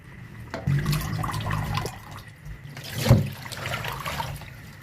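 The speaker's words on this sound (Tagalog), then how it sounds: "Hugasan lang po natin to ng maigi." Running tap water rinses cut Filipino string beans (sitaw) in a kitchen, a steady splashing wash with a brief louder gush near the end, no talking.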